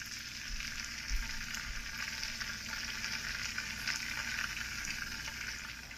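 Garlic and red pepper flakes fry in butter with a steady, close, bright sizzle and crackle that holds at an even level throughout.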